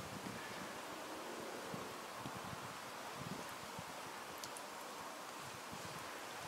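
Steady outdoor wind blows continuously across a microphone near a pipe pressure test, a broad unbroken rush with soft rustling and no speech.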